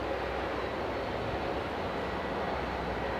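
A JetBlue airliner at Edinburgh airport gives a steady, continuous jet engine roar, a broad even rumble that holds at one level throughout with no voices over it.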